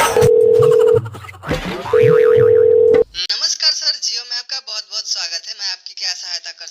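Two long ringback tones sound on a phone line as a call is placed to a Jio customer service line. A voice then answers and speaks.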